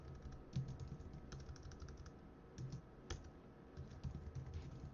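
Code typed on a computer keyboard while writing JavaScript: quiet, close, irregular keystrokes in quick bursts, with a few harder taps that sound like the Enter key.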